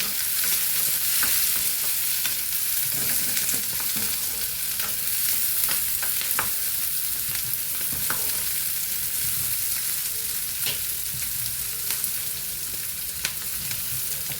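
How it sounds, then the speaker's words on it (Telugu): Tomatoes and onions frying in a pan for tomato-mint peanut chutney, a steady dense sizzle with occasional stirring clicks running continuously and close throughout, with no talking. "ఉల్లిపాయలు ఇవి కొంచెం వేగినాక టమాటాలు వేసుకున్నామండి"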